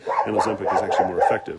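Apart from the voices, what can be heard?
dogs barking at a neighbor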